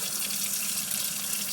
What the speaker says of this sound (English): you're going to run it under the cold water and squeeze all of the buttermilk out